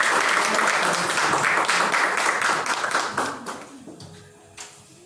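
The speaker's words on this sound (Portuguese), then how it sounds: "Aplauda o Senhor por essa atitude" A church congregation at a Friday service applauds, a dense sustained round of clapping that fills the room and then thins out and fades toward the end.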